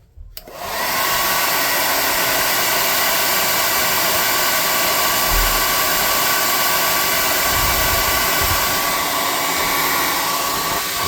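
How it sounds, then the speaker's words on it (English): A heat gun blasts air over freshly painted wood, switching on with a brief rising start and then holding a loud, steady, broadband roar close by for the rest of the time. "You want to hit this with the air gun"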